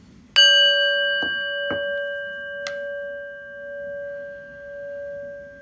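A prayer bell is struck once at a quiet moment in an online worship gathering. A bright metallic ring opens it and then hums on for several seconds as a long fading tone, with a few soft knocks in the background.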